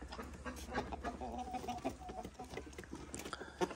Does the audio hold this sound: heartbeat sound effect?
no